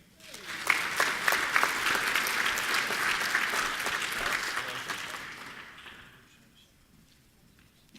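Audience applause at an armed services ceremony honoring graduating seniors headed for military service, a dense burst of clapping from a large crowd that swells quickly, holds steady, then fades out to near silence.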